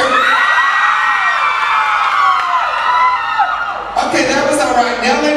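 Nightclub crowd screaming and whooping at a drag show in Pomona, a sustained loud wall of high-pitched shrieks with a fresh surge of yelling near the end.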